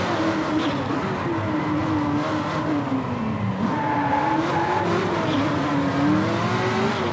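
Race car engine in the Driveclub video game, a sustained buzzing drone whose pitch rises and falls as the throttle is worked, heard steadily and fairly close with no talk.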